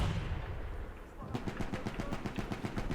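Rapid bursts of gunfire from the Battlefield 1 video game: muffled rumble at first, then from about a third of the way in a loud, rhythmic string of close shots that continues to the end.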